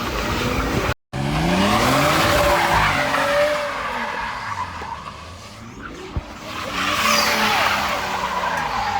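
A 2017 BMW 540i with the B58 engine and no limited-slip differential drifts, its tires squealing loudly in long wavering screeches over engine roar, with a brief cut partway through.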